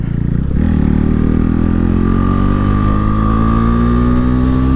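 A KTM RC390 motorcycle accelerates hard uphill, its engine note climbing steadily in pitch as it revs, loud and close throughout, with a brief exclamation from the rider at the start.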